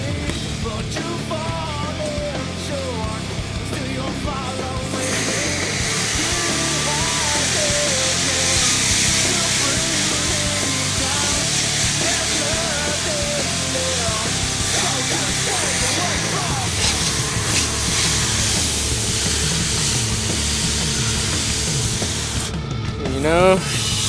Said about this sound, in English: Spray it down with the power off.